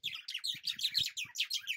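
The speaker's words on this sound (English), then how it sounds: "our noisy neighbors, the tree birds" Birds in trees at a campsite in Southern Africa call with rapid, overlapping chirps and tweets, loud and near, in a continuous busy chorus with no talking.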